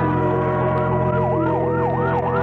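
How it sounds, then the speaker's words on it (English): A fire engine siren wails through the night in a radio drama, its pitch sweeping up and down in a steady repeating cycle over a low engine drone, loud and close throughout. "A fire engine, suddenly screaming through the night"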